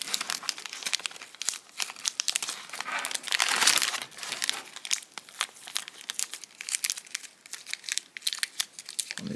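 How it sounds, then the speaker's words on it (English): Plastic film is peeled and crinkled off an S.H. Figuarts Galactron action figure in a series of close, sharp crackles and tearing rustles. The bursts come irregularly, with a denser, louder stretch partway through. "how you get all these film off the figure"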